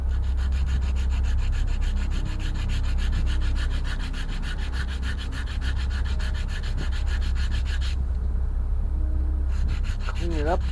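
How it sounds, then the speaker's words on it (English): Steady, continuous rubbing of sandpaper on the wooden hull of an OCCRE Flying Dutchman 1:50 scale model ship kit, close and loud, with a brief lighter pause near the end. "we got to sand it down"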